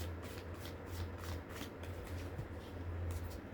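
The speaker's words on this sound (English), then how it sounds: "I'll do one more shuffle" Quiet, repeated riffling of cards being shuffled, a soft papery rhythm continuing steadily with a low hum underneath.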